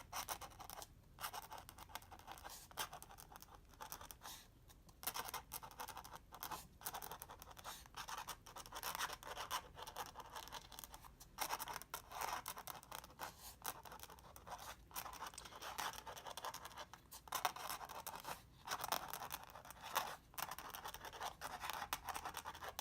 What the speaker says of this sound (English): I'm going to add a little bit of writing over this.